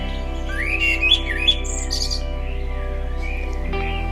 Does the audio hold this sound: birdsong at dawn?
yes